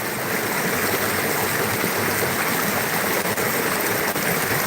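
Steady rushing of an alder-lined creek flowing nearby, a continuous broadband wash of water with no voices.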